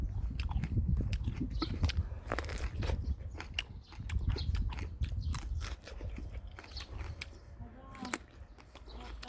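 An unripe plum is bitten and chewed up close, giving repeated crisp, crunchy bites and wet chewing in an irregular rhythm, with faint outdoor background.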